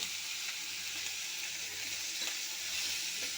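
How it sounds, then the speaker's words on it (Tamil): Chopped ingredients for a drumstick-leaf adai are sautéed in a hot pan, giving a steady, close, continuous sizzle with faint stirring scrapes and no talk. "போட்டு நல்லா வதக்குறோம்."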